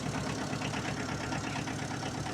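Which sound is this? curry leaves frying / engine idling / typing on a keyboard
engine idling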